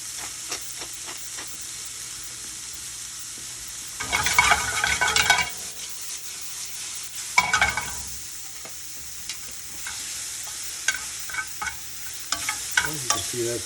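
Mushrooms and shallots fry steadily in a pan for a Steak Diane, a constant close sizzle with louder bursts of stirring and scraping partway through and scattered clicks near the end; no one speaks.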